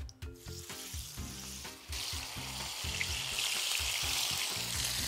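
Chicken thighs sizzling loudly in a hot pan of oil, a steady crackling hiss that swells after a brief quieter start.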